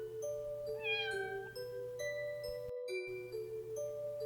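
A voice imitates a cat with a rising, drawn-out meow, followed by sustained tones and brief pauses, fairly quiet.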